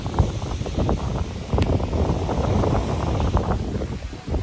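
Steady, loud wind in Luisiana, Laguna, buffeting the microphone with low rumbling gusts, continuous throughout with no voices.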